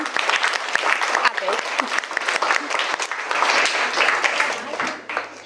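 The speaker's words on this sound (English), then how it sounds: "should we give Sophie a big round of applause?" At a children's book launch for Sophie's Spectacles, an audience breaks into a big round of applause for Sophie, steady, dense clapping lasting several seconds with a few voices and cheers mixed in.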